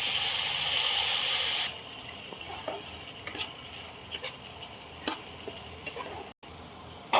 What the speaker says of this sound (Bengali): পেস্ট করা মশলাটা দিয়ে দিলাম।